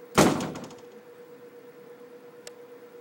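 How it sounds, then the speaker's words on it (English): A single loud door slam lands near the start, a sharp thud with brief rattling decay that fades into quiet room hum, then a faint click near the end. "Sorry the door slammed."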